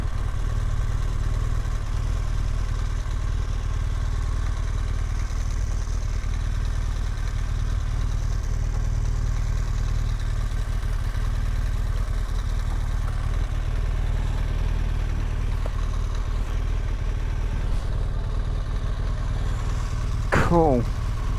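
A motorcycle on an NC500 tour idles in a town parking area in Ullapool, Scotland, a continuous low close engine drone, then a brief rev with a rising whine near the end.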